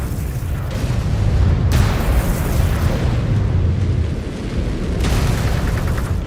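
A missile explodes in Mechwarrior 5: Clans, a loud sustained rumbling blast with a second burst of debris-like crackle near the end, no talking over it.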